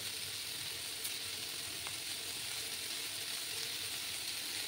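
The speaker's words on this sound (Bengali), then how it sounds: "ভালো করে আমি কষিয়ে নেব।" Small fish frying with potatoes and onions in a pan give off a steady, soft, continuous sizzle, constant and unbroken, with no voices.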